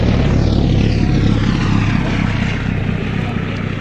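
A vintage Gloster Gladiator biplane's piston engine and propeller roar loudly and steadily, fading slightly as it passes, with a deep pulsing drone.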